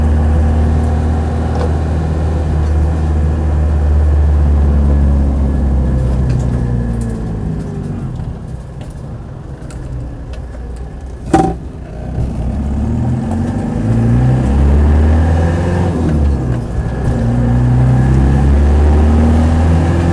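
A Land Rover 90 hardtop with a 200TDi diesel engine driving, its low steady drone and rumble dominating from start to finish, close and loud, with a short knock partway through and the pitch rising and falling as it pulls.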